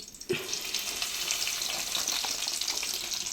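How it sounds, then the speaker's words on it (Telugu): Ivy gourd and tomato pieces hiss and sizzle steadily in a hot pan of oil, a bright continuous frying crackle that jumps up as they go in and then holds level, with no talking. "చక్కగా వేగిపోయిన దాంట్లో ఇప్పుడు నేను దొండకాయ ముక్కలు వేసుకుని టమాటా ముక్కలు అయితే వేస్తాను"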